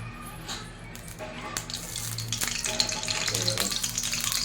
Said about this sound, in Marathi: कढई गरम झालेली आहे. आता याच्यामध्ये आपण तेल टाकून घेऊयात.